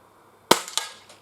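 A single sharp crack from an Umarex Mini Uzi break-barrel air gun, followed about a quarter second later by a second bright snap of the pellet striking a can, both close and loud against a quiet background.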